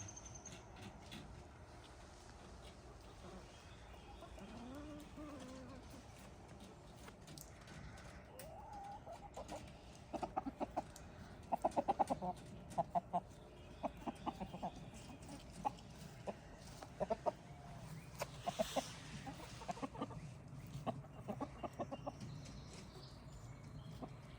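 Young chickens clucking in a backyard, soft intermittent clucks and scattered pecking clicks over quiet outdoor ambience, becoming busier partway through, with faint distant voices at times.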